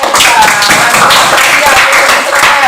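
Students in an Indonesian classroom clap for a classmate, a loud, dense burst of many hands applauding steadily close by, with voices mixed in.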